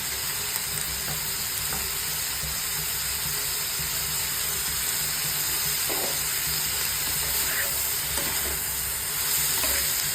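Paneer, cashews and melon seeds frying in a pan, a constant loud hiss and crackle of oil lasting the whole stretch with a few faint stirring scrapes, close up, no speech.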